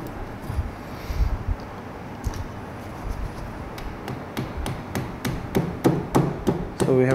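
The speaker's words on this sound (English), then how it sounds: "So we have to use the rubber hammer" Rubber hammer tapping a slot stick into a stator slot while rewinding a double-layer induction motor, a series of sharp taps that quicken into a steady close rhythm toward the end.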